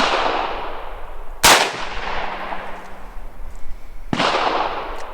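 A PTR 601 9-CT rifle fires two loud, sharp shots several seconds apart at an outdoor range, aimed at a target 50 feet away. Each crack rings and echoes out.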